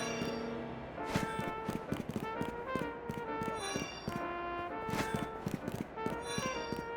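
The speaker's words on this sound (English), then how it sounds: "since changing shoes, the footstep sound is now completely different" Footsteps in Pokemon Legends Z-A after the character changes shoes: a steady run of crisp clicking steps over game music, repeating evenly at a brisk walking pace.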